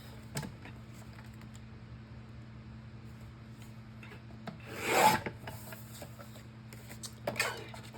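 A paper trimmer makes one quick scraping slice through red cardstock, with a few faint taps and clicks before and after in an otherwise quiet room.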